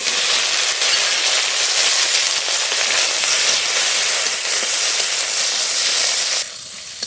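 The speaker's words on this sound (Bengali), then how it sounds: "রসুন আর লঙ্কা একটু ভাজা ভাজা করে নিয়েছি" Whole cumin, garlic and green chilies frying in hot oil, a steady loud sizzle and hiss running without a break until it drops off abruptly near the end.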